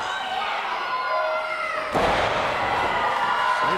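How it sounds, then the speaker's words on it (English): A wrestler slams onto the ring canvas after a hip toss in a televised wrestling match, one sudden loud thud over a steady crowd murmur, followed by continuing arena noise. "Slater quickly back up, hip toss"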